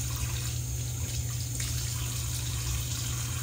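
A bathroom tap runs steadily into a sink during a wet shave, a constant close hiss of flowing water that never pauses.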